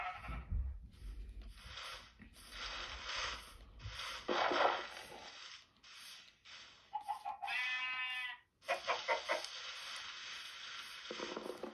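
Sheep in a video game bleat repeatedly in wavering, nasal cries, with bursts of noisy rustling between calls; the animal sounds are fairly loud and close.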